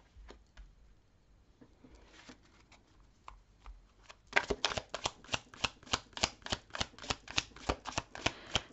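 Tarot cards being shuffled: scattered soft card flicks at first, then a fast, steady run of crisp riffling snaps, close and fairly loud, with no talking.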